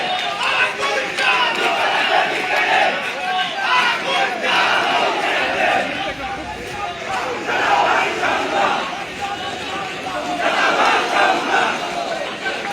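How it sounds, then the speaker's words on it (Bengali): Large outdoor crowd of students chanting political slogans in rhythmic, roaring unison, sustained loud and continuous with call-and-response swells throughout. "এখানে স্লোগান গুলো কিন্তু মারাত্মক সব স্লোগান"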